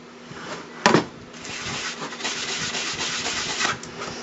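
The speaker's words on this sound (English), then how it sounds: "take your sandpaper or sanding block, just smooth out where the drill bits went through the other side." A sanding block rubs back and forth over the drilled face of a wooden paracord jig, giving close, rhythmic scratchy strokes after a sharp knock.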